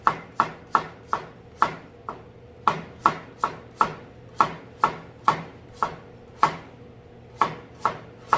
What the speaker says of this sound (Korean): 여기에 아까 말씀드렸다시피 감자를 채를 쳐서